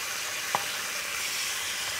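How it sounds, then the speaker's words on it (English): Meat stir-frying in very hot oil in a wok gives a steady close sizzle and hiss, with one brief clack near the middle and no talk. "I'm using my oil really hot in here because, like I said, it's only focused in the center and I want it to cook quickly."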